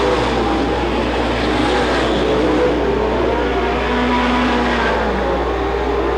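Race cars at a weekly racing series in Watsonville, California, roar past in a loud, continuous wall of engine noise that holds steady throughout, with no talk over it.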